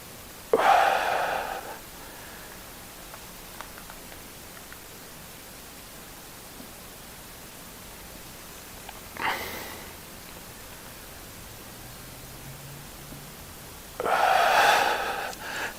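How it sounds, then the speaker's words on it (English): Slow, deep breaths taken during a hip mobility stretch, heard as three soft, separate bursts of air spaced several seconds apart over a quiet, hissy background. "Nice deep breaths."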